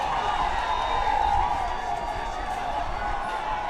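A crowd at a high school lacrosse game cheering after a goal, a steady distant roar of voices from the stands and sideline, with a faint whistle-like tone running through it.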